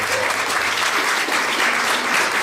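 Dense, sustained applause from a dinner audience at a Rotary Club centennial celebration in Frankfort, Indiana, steady and full throughout with no talking over it.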